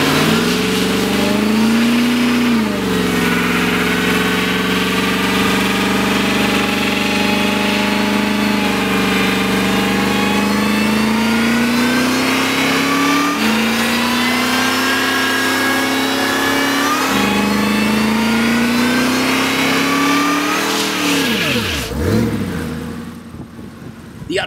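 A street car's engine, tuned with a wideband air/fuel gauge, revs and accelerates on a test run, a loud sustained engine roar with rising and falling pitch that drops away sharply near the end.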